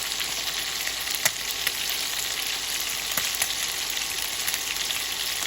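Bata fish full of roe frying in a pan, a dense, continuous oily sizzle with scattered small pops and crackles, close and steady throughout with no voices.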